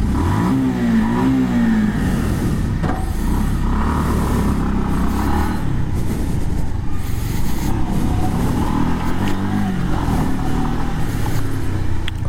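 A Bajaj Pulsar 150 motorcycle on new CEAT Puncture Safe tyres, heard while riding: a loud, continuous engine drone that rises and falls with throttle, mixed with wind rush and road noise, close and without speech.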